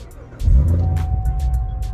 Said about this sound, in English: we're just gonna basically turn on the vehicle